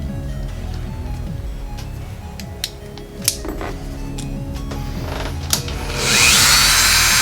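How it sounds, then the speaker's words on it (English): A drum sander smooths a machined part for a shielded CNC control cable. A steady close motor whir carries light scraping contact and a few clicks, then the pitch rises into a louder, brighter rush near the end. "Finalize with our drum sander"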